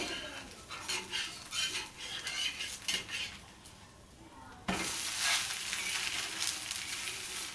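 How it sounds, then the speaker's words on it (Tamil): A moong dal dosa (pesarattu) is scraped and flipped on a hot pan, with metal utensil scrapes giving way to a louder, close sizzle of frying as the other side hits the surface; no talk. "ஸோ நம்ம இன்னொரு சைடு அப்படியே திருப்பி போட்டுக்க போகிறோம்"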